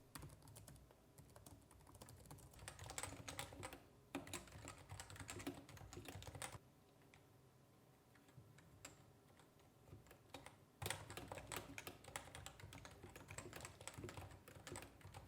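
Typing on a CM Storm NovaTouch TKL gaming keyboard with quiet switches: quiet, steady keystroke clatter in bursts, with short pauses between runs and a softer stretch midway.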